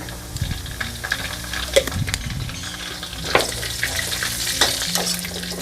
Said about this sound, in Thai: แล้วหมั่นคนค่ะ ให้กระเทียมเหลืองกรอบ